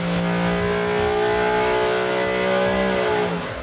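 A V8 race engine runs loud and steady on a dyno, holding a sustained high-revving roar that eases off near the end, with no voices over it.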